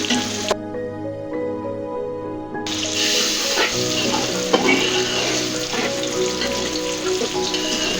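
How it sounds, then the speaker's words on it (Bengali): Spices with salt and turmeric powder stirred in a hot frying pan, a steady sizzle with scraping stirs and light clinks, close and continuous, with a faint tonal hum in the background and no talking. "হলুদ, গুঁড়া দিয়ে একটু নাড়াচাড়া দিলাম"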